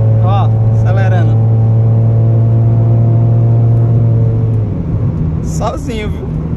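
A Honda Civic 2.0 LXR accelerating, its engine holding a steady low drone that shifts in pitch near the end, with someone speaking briefly over it.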